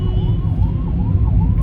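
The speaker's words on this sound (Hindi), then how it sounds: "एम्बुलेंस जा रही है, थोड़ा धीरे कर लेते हैं" An ambulance siren wails loud and steady on a congested road, its rising and falling tone sweeping past alone with traffic noise beneath.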